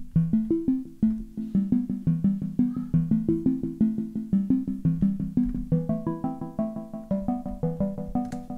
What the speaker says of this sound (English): doing a really basic synth line